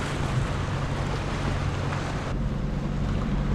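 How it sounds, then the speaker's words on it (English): A sailboat moves at about 10 knots through choppy sea, with constant rushing water and waves close by under heavy wind buffeting the microphone, and no voices. "Is there a way to have much more fun on a boat than flying along at 10 knots"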